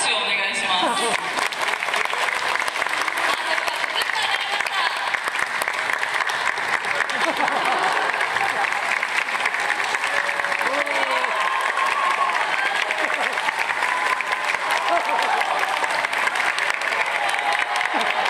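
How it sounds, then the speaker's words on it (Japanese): Sustained audience applause at a volleyball team's victory celebration event in a hall, a dense, even roar of clapping lasting many seconds, with faint voices and laughter mixed in. "じゃあ拍手をお願いします。"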